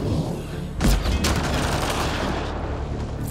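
Enemy gunfire in a sci-fi shooter game, Mass Effect Andromeda: a dense, loud burst of overlapping shots near the start, followed by a sustained rattle of firing and battle noise throughout.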